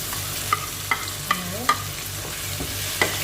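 Shrimp fry in a pan for pinakbet, a steady close sizzle with a handful of sharp metallic clinks and scrapes as a utensil stirs them at uneven intervals.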